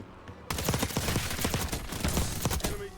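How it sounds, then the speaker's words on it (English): Rapid fully automatic fire from dual akimbo pistols in Call of Duty: Warzone, a dense stream of sharp close shots rattling continuously for about two and a half seconds after a brief quiet lead-in. "we now have a fully auto pistol, probably the best fully auto pistol in the game"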